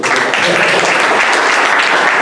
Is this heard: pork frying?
no